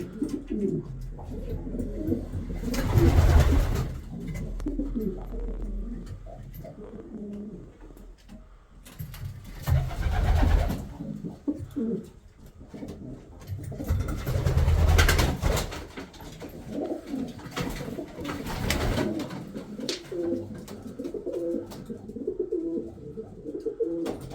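A flock of colourful domestic pigeons, including Spanish breeds, coos in soft low rolling calls that swell and fade in several waves over about twenty seconds, close by in a snowy setting.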